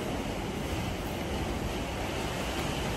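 Strong typhoon wind during Typhoon Uwan roars steadily and loudly around a damaged house, a dense, unbroken rush with no voices.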